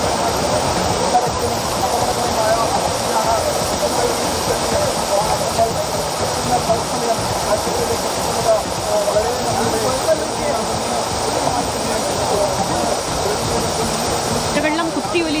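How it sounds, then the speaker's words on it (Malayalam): Muddy floodwater carrying soil, stones and sludge rushes down the Thamarassery mountain pass after a landslide, a loud, unbroken roar of turbulent water filling the whole scene. "കുത്തിയൊലിച്ച് വരുന്ന മണ്ണും കല്ലും ചെളിയുമാണ് വരുന്നത്"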